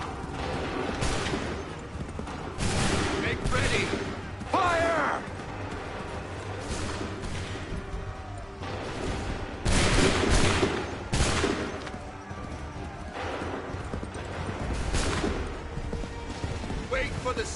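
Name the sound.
musket volley firing in Assassin's Creed 3 video game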